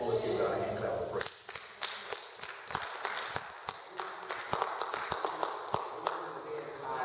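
A congregation claps for a prayer in church, a sparse scatter of separate hand claps that grows denser, moderately near, after a short stretch of speech.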